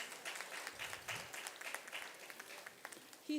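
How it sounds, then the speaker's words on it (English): Applause from an audience at a book launch event, a brief burst of many hands clapping at moderate distance, fairly soft and even throughout. "Big round of applause, please."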